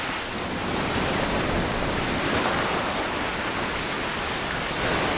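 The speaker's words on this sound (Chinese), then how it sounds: "在海浪的持续冲击和拍打下，白化的珊瑚礁逐渐碎裂" Caribbean Sea waves break on a coral reef beside a white sand beach, producing a steady, loud, unbroken roar of surf with no voices.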